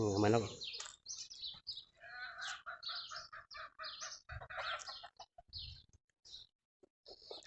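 Chickens cluck and a rooster calls outdoors near date palms in Saudi Arabia, the bird sounds fairly faint and mixed with someone talking over much of it.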